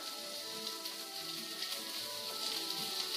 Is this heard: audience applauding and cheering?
no